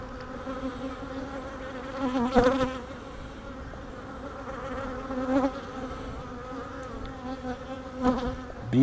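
Honeybees buzz close by during a beehive inspection, a continuous droning hum with individual bees swelling louder as they pass near, roughly every few seconds.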